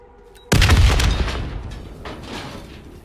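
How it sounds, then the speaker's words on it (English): A single explosion in the Call of Duty: Black Ops 3 video game erupts suddenly as a loud, close blast, then fades into a long rumbling decay. "The explosion blocked our path."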